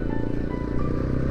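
A BMW G310R motorcycle rides along a road, its steady engine drone and low rumble continuous and close throughout, with no talk.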